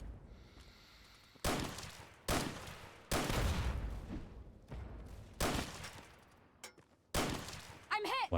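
Gunfire in a Fallout game, a string of six or so loud, sharp shots with booming tails, spaced unevenly across the passage, close and dominant over a faint background.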